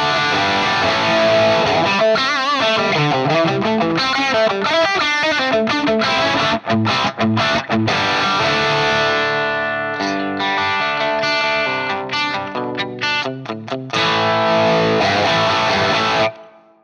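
Distorted electric guitar through an amp model and plate reverb, with an old-school rock and roll tone, playing chords and single-note riffs with a wide, washy reverb tail, loud and up front, ending in a ringing decay.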